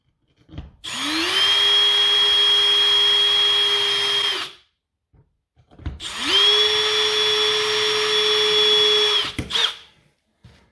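A power drill with a 1/4 inch bit whirs up to speed and runs steadily for a few seconds, stops, then drills again for a second long, even burst, close up.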